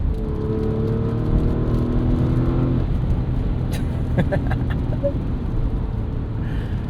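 A 2024 Porsche Cayenne S with its V8 engine drives along, a loud, steady low rumble and road whir heard from inside the cabin, with a few faint clicks near the end.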